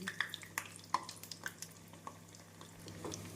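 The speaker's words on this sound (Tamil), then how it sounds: "எண்ணெய் இந்த அளவு நன்றாக சூடானதும் வடையை போட்டு விடலாம்." Banana flower vadas deep-frying in hot oil over a medium flame, a faint, quiet bubbling sizzle with a few small sharp pops and spatters early on, heard close up with no talk.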